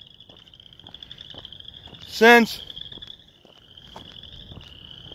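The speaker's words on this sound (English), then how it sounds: "and you hear frogs down the river." A frog lets out a short, loud burst of croaking near a river, set against steady insect chirring and faint ticking, with someone talking briefly in the background.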